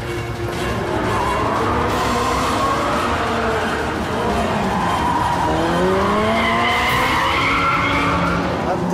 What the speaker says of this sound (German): Doch vor der Durchfahrt unter der Brücke ein ungewollter Drift.